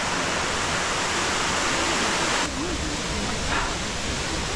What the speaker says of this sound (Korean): 여기 봉래폭포가